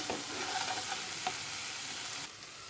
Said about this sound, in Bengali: এগুলো সব দিয়ে মশলাটাকে মিডিয়াম আঁচের উপরে ভালো করে কষাবো।